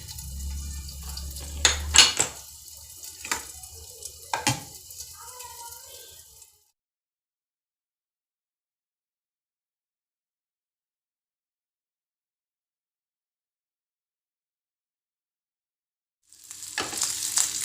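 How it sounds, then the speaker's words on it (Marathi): Pomfret fish with green and red masala paste frying in a pan, a close sizzle with a few clinks for about six seconds, then a long stretch of silence before the sizzle returns briefly at the end. "आता एक साईड फ्राय करताना आपण झाकण ठेवूया, म्हणजे लवकर शिजेल."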